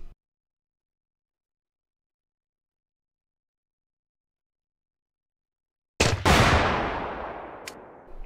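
A single underbarrel grenade launcher shot in the VR shooter GunWorld VR, arriving after a long silence as one loud, sharp blast that rolls off into a lingering rumbling decay.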